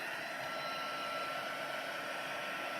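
An embossing heat gun blows a steady, soft, continuous whoosh of hot air over a card craft project, with no talking.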